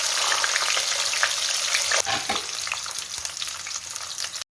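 Shallots, two red chillies and garlic sizzle loudly as they fry in hot oil in a pan, a steady crackling hiss with occasional stirring sounds and no voices.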